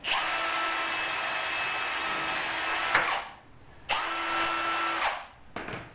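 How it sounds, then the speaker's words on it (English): A power drill pre-drilling wood for a lobster pot whines loudly and steadily for about three seconds, stops, then runs again in a second burst before a brief final spin. "Just pre-drill it."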